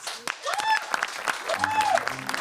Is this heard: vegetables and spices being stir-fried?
no